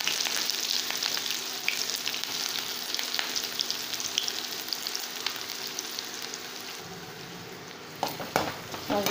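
Chopped onion and curry leaves frying with mustard seeds and cumin in hot oil, a loud, dense, continuous sizzle heard close up, with occasional stirring scrapes and a few clinks near the end and no talk.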